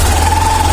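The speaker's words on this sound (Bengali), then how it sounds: "ছোট্ট করে থ্রটেল দিলাম এটা।" A 150 cc motorcycle engine idles and takes a light blip of throttle, a loud, close, steady mechanical drone with a humming tone and no speech.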